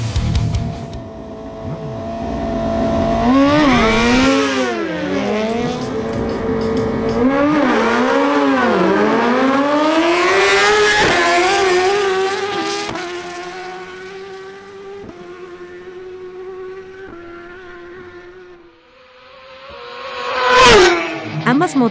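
Suzuki GSX-R1000 motorcycles race a quarter-mile drag strip, their engines screaming through rising and falling gear shifts, loud and close, before the sound fades into the distance and another sharp rev bursts near the end.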